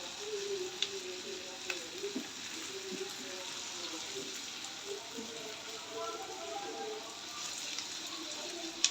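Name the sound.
potatoes and tomatoes frying in a pan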